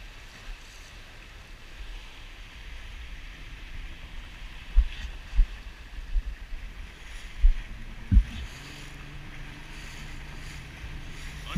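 A motorboat runs on the water near a cave in Crete, its engine a low steady drone under wind and hull noise, with several dull thumps as the hull slaps the waves midway.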